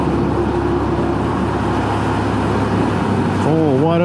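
A truck carrying a load of dirt and concrete revs up through a steady low engine rumble with traffic noise, then a rising whine climbs near the end, heard from a nearby small motorcycle.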